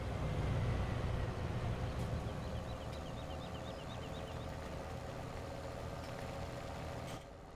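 A road train truck engine drives steadily in Farming Simulator 17, a continuous low rumbling drone that holds even and fairly loud before dropping off abruptly near the end.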